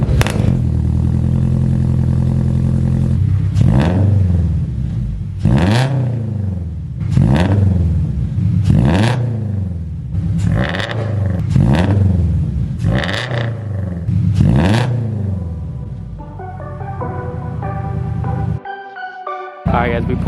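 2022 Subaru BRZ with an Aeroflow Dynamics single exit exhaust, revved hard about eight times in a row, each rev a loud close rasping climb that falls away quickly, then settling back to idle.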